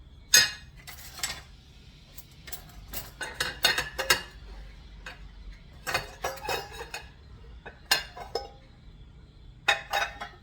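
Plates and dishes being handled in a home kitchen while making caraway rye bread, with repeated close clinks and clatters of crockery and utensils in uneven bursts.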